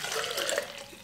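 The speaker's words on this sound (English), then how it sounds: "I'm gonna take this cup of hot coffee and I'm gonna pour it into my shaker." Hot coffee pouring from a cup into a shaker bottle, a steady close-up liquid splash and trickle lasting about a second with no talking.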